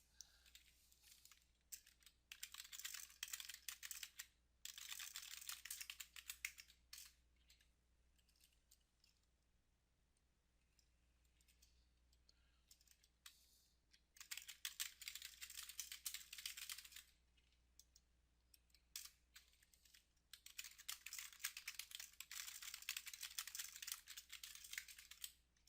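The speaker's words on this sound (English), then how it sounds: "you can just get used to typing it by hand like I'm doing here" Hand typing of a router configuration on a computer keyboard, in several long bursts of dense, fast key clatter separated by quiet pauses, close and fairly soft with no talking.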